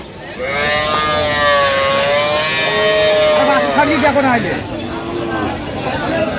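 Cattle at a livestock market moo in long, wavering calls that overlap near the start, with crowd babble underneath.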